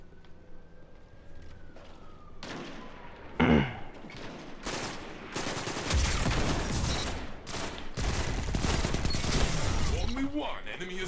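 SMG fire in Destiny's Trials mode on the Endless Vale map, loud rapid bursts crackling through the second half, with a siren-like tone early on and people talking over the action.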